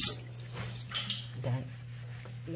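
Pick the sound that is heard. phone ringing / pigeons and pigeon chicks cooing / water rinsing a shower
water rinsing a shower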